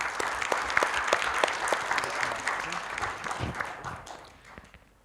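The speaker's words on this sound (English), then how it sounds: "let's give them a special round of applause" Audience applause at an APNIC AGM session, steady dense clapping from a large crowd that holds for several seconds and then gradually thins and fades out.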